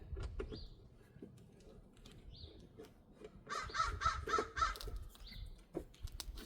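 Several harsh crow caws ring out in a quick series over a low background hum, fairly close and loud, with a few scattered bird calls before them.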